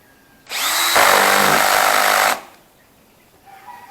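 A Bosch GSR 180-LI cordless drill drives a screw into wood at a low speed setting, giving one loud, steady whirring burst of about two seconds that deepens as the screw bites, then stops.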